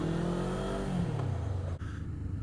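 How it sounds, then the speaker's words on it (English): A Kawasaki Eliminator 450 motorcycle engine runs steadily while riding, a loud continuous drone whose pitch slides downward as it eases off, with a brief dip near the end. "Engine seems pretty smooth right away."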